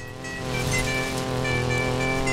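Car engine in the racing video game Need for Speed Payback, a steady droning rev that holds a constant pitch and slowly builds, loud and continuous with no talk.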